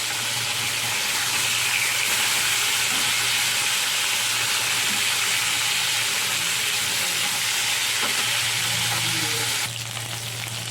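Pieces of shankar fish fry in hot oil in a pan and get turned, giving a loud, steady, close sizzle that runs almost unbroken and eases slightly near the end.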